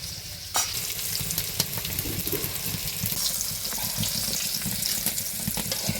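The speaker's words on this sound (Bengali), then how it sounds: "খারাপ আলুটা বসিয়ে দিয়েছি ভাজতে" Pieces of a large khama alu (yam) fry in hot oil in a home kitchen, giving a loud, continuous crackling sizzle that runs unbroken from a sharp onset just after the start.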